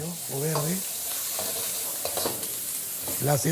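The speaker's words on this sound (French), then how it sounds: "On met ensuite l'oignon avec le piment jaune ou vert." Thick onion wedges and yellow or green chili stir-fry in a very hot wok for Peruvian lomo saltado, a steady loud sizzle running throughout, with brief voices heard over it at the start and end.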